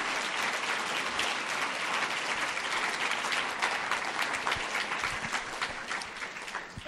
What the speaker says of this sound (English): let's give our panel a great round of applause for their participation